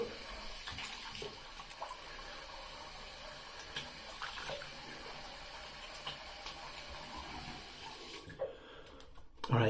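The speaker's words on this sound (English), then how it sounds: "let's rinse off real quick" Tap water runs steadily in a sink as the face is rinsed after a shave, a continuous close splashing hiss with small handling splashes. It stops near the end, and no one speaks.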